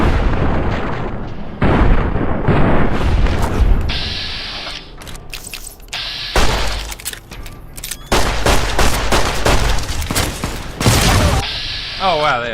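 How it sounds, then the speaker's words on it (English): Plasma grenades and gunfire burst loudly in Fallout New Vegas combat against Legion assassins, with sharp, close blasts in irregular clusters separated by short gaps. A voice talks in between. "Oh wow, they have plasma grenades."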